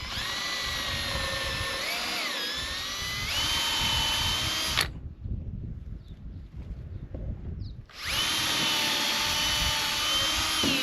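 A power drill whines at high speed boring holes in wood, pauses briefly in the middle with quieter handling noise, then spins up again, close and loud.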